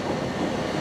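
A high speed train on the Bristol to London line passes close by at Swindon, a steady loud broadband rumble of wheels and carriages with no pauses, filling the whole short moment.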